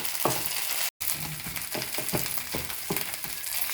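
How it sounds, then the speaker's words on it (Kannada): Ginger garlic paste frying in a pan on medium flame for chicken masala: a constant close hiss of sizzling oil broken by repeated short spatula scrapes, with a brief cut near the start. "ಅರ್ಧ ಟೇಬಲ್ ಸ್ಪೂನಷ್ಟು ಶುಂಠಿ ಬೆಳ್ಳುಳ್ಳಿ ಪೇಸ್ಟ್ ಹಾಕೊಳ್ಳೋಣ. ಹಾಕ್ಕೊಂಡು ನೀಟಾಗಿ ಫ್ರೈ ಮಾಡಬೇಕು."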